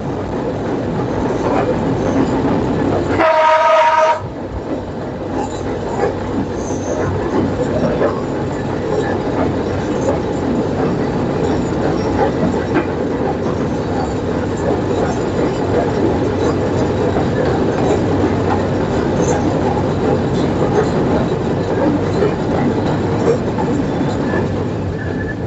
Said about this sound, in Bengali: আমাদের ট্রেনটি ঈশ্বরদী জংশনে প্রবেশ করছে